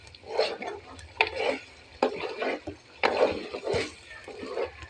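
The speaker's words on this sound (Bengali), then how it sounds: "চিংড়ি মাছটা আমি ভালো করে ভেজে নিচ্ছি, কষিয়ে পানিটা টানিয়ে একদম ভাজা ভাজা করে নেব" Shrimp frying in a pan while being stirred and tossed, with repeated scraping strokes and bursts of sizzle in an uneven rhythm, fairly close.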